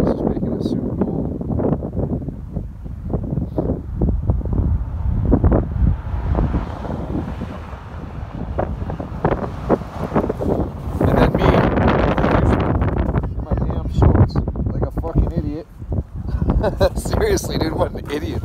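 Strong, cold wind buffets the microphone with steady roar and gusts on a mountain road near Big Bear Lake, California, as a storm rolls in; a person talks intermittently beneath the loud, continuous rumble.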